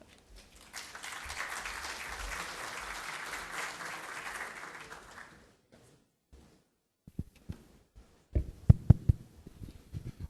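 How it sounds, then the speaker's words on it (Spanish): Audience applause at a health-tech conference session, a steady burst of clapping from a seated crowd that swells, holds for several seconds and fades out, followed by a few scattered bumps and a brief voice. "Un aplauso, por favor."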